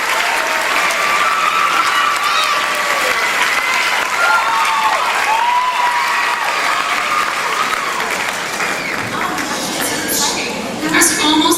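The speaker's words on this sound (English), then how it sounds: "please, let's give another round of applause to our 8 semifinalists" A pageant audience at Miss Nebraska 2008 applauds its eight semifinalists with dense, sustained clapping that stays loud for about eleven seconds, and scattered cheers rise near the end.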